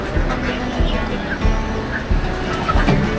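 Pigeons cooing at a poultry stall in the busy Karwan Bazar market, Dhaka, soft repeated low coos recurring through crowded market bustle and people talking nearby.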